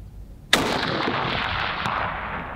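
A single loud Sig rifle shot fired at a target, a sharp crack followed by a long rolling echo that fades slowly outdoors.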